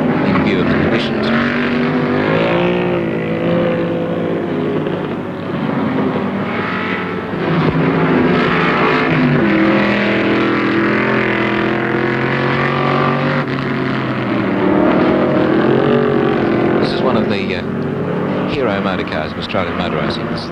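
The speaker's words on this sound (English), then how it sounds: "Moffat with three slower cars at least between him and his pursuer, Pete Geoghegan, able to run the race now" Improved Production touring cars race at Warwick Farm in 1973 in difficult conditions. Steady engine noise runs under a commentator who talks without a break.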